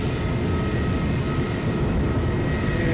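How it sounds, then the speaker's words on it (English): Airliner taxiing at Edinburgh Airport, a steady broad engine rumble and whine heard from a distance, constant without a clear rise or fall. "The Flying Dutchman, I think it says on the aircraft here, is taxiing around to the hold shore point"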